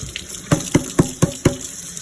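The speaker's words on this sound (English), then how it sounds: "You wet it." Tap water runs over a hardened Scrub Daddy Damp Duster sponge, a steady close hiss broken by about five soft, evenly spaced splashy thumps as it is handled under the stream.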